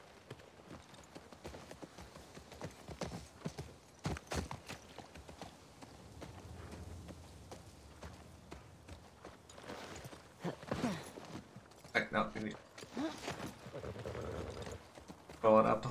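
Rhythmic clip-clop of horse hooves walking in The Last of Us Part II, fairly quiet, with a voice and game sounds layered over parts of it.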